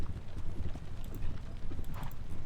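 Clip-clop of horse hooves from horse artillery moving up in a Napoleonic wargame set at the Katzbach, a steady close trotting rhythm heard alone.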